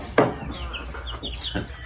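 A chicken clucks a few times nearby, short sharp calls spaced apart over a faint murmur of background noise.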